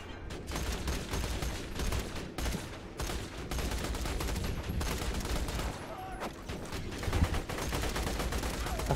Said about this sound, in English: Bring it over here so my turret can shoot it.